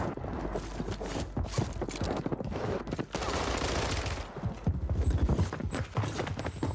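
Rapid gunfire bursts and scattered shots ring out during a Warzone battle royale match, dense and continuous over game sounds with hoof-like clatter and no clear talk.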